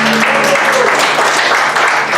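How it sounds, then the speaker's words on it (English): Loud applause fills a room at a live comedy music show, with the crowd clapping steadily throughout and a brief tonal note or cheer rising over it early on. "So give yourselves a big round of applause."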